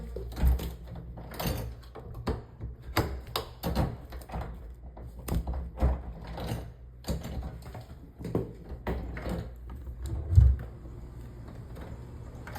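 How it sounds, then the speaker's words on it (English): A wooden Dutch door in a stairwell of a house is worked open one half at a time, giving a series of soft knocks, latch clicks and thuds spread over several seconds with one louder thump near the end. "Now you can see how you can open up one side of the door"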